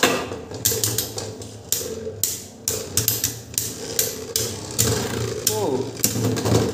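Beyblade tops clash in a stadium during a battle with an Imperial Dragon combo: sharp metallic clicks and knocks repeat irregularly over a steady spinning whir, while people talk and cheer excitedly throughout.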